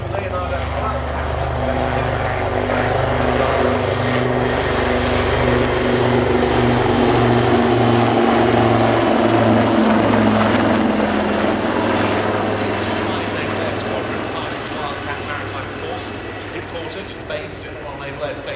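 Two Royal Navy Leonardo Wildcat helicopters fly at an air display, their rotors and turbines a loud, continuous roar with steady blade chop that swells and then eases slightly, while a commentator talks over them.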